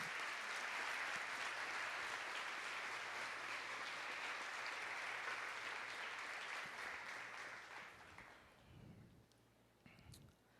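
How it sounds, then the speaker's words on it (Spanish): Congregation applauding the Lord during a Spanish-language church service, sustained dense clapping that fills the room for about eight seconds, then fades out into a few scattered claps and faint murmurs. "Dele un gran aplauso al Señor."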